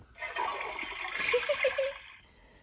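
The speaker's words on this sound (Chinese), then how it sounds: "冲马桶的声音。" Toilet flush effect from a children's sound book: a rushing gush of water lasting about two seconds with gurgling trickles, then quickly fading out.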